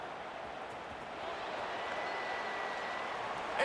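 A stadium crowd in an EA Sports football video game roars steadily as the kickoff unit takes the field, a broad, continuous wash of cheering and applause that swells slightly and holds without talk.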